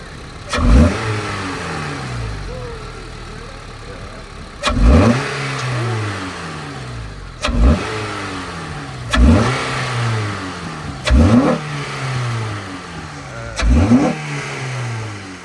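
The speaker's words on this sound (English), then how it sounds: "I'm going to try and give a couple revs." A 9th-generation Honda Civic Si engine fitted with a new intake is blipped six times in a row, each sharp rev rising and falling back to a steady idle, loud and close.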